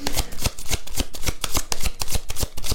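Tarot cards being shuffled in quick, repeated riffling bursts, close and crisp, with no talking.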